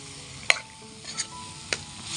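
Broiler chicken meat is tossed with spices in a hot kadai, giving a soft background sizzle broken by a few distinct scraping stirs and clinks at irregular intervals.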